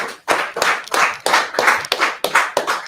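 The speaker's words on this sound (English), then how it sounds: "That brother, round of applause." Rhythmic group clapping at a religious gathering, about eight sharp bursts on a steady beat, close and fairly loud with no talk.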